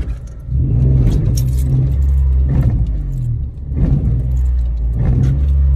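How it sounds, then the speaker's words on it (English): A Citroen car clunks from the driveline as the clutch is let up sharply, heard from inside the cabin as several heavy thuds over a steady engine rumble, with keys jangling nearby. "every time I let my clutch up with any sort of level of aggression, you can hear a clunking."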